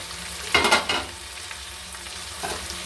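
Chicken cooking in a pan for a light curry with potato and papaya is stirred in two bursts of scraping and rustling over a low, steady sizzle, heard up close without speech.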